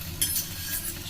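A raw egg being spread over a raw roti as it fries in an oil-filled pan for a soybean egg roll, giving a steady close sizzle with soft scraping and stirring strokes, with no talking.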